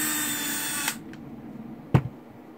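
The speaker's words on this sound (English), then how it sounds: "I'm going to need to do some more Dremel work here" Dremel rotary tool grinding a lightsaber part: a high, buzzing whir that cuts off after about a second, followed by a short restart blip and a knock, close by with no talk.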